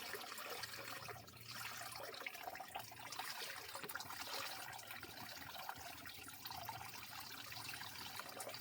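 Water from a hot spring pool drains steadily outdoors after debris is pulled from the drain, a continuous broadband trickling rush with a low gurgle underneath, holding even and moderately loud with no talking.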